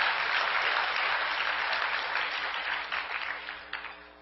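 Sustained applause from a convention audience at the American Constitutional Society national convention, a dense even clapping that holds steady and then thins and tapers toward the end, with no talk over it.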